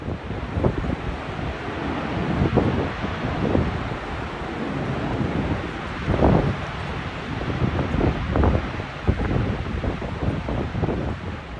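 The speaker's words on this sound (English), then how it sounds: "listen to the roaring sound of the water endlessly plummeting over the cliff" Montmorency Falls near Quebec City roars as its water plummets over the cliff, a steady, broad rushing wash with gusty swells and rumbling surges, loud and continuous with no voices.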